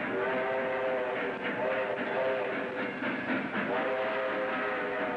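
A train rumbles past steadily with a faint whistle-like tone and rhythmic clatter, continuous throughout, no voices.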